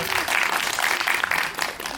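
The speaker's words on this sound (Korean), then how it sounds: "저희 생일 축하 박수 한번." A theater audience at a film Q&A claps steadily in birthday applause for a guest, a dense continuous patter of many hands, fairly close and sustained throughout.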